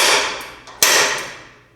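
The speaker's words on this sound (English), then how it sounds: "take this spring-loaded punch and you press down, and it'll leave a mark there for you" A spring-loaded center punch snaps once against sheet metal during 1971 Camaro torque box repair, a single sharp metallic click standing out over steady background hiss, with a faint tap just before it.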